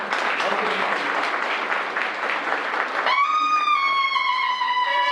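Steady applause from a crowd fills the first few seconds, then a sustained tonal sound takes over while the clapping continues underneath.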